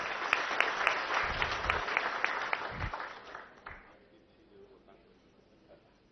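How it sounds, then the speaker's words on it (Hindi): Audience clapping welcomes Vishnu Deo Sai to the stage at an Indane LPG distributors' association event, a moderately loud, steady patter of hands for about four seconds that fades away, leaving quiet room noise. "मैं निवेदन करता हूं जोरदार तालियों के साथ आप उनका स्वागत और अभिनंदन करें।"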